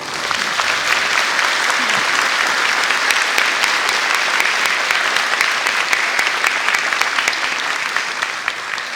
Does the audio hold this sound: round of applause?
yes